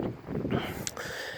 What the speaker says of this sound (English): Sorry for the wind. It's windy here in New Hampshire.